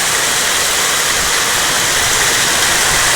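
Heavy rain pours down in a dense, steady hiss that fills the whole clip without pause.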